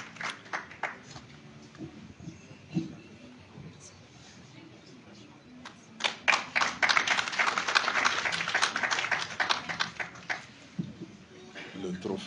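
Audience at a Malian celebration of women leaders applauding an award winner, the clapping swelling midway into dense, fairly loud applause after scattered claps and background chatter.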